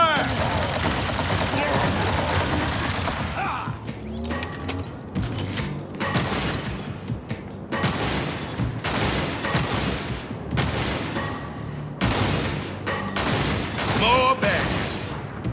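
Gunfire in the shooter game Halo Campaign Evolved, a loud, constant clatter of rapid shots and bursts blended with combat noise, with voices half buried in the din.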